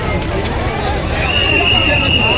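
Dense crowd at the Mahim Mela fair in Mumbai, a constant close wall of babble, footsteps and chatter with a thin high tone rising near the end, steady and loud throughout.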